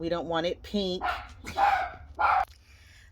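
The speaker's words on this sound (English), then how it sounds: "Sorry for the barking" Dogs bark in several loud, close bursts, some high and yelping, while a person talks over them.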